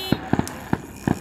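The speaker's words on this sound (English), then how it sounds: "There, now you can see the fireworks." A few distant fireworks pop in quick, sharp bursts, four or five reports spread unevenly over about a second, each one moderately loud against a quiet background.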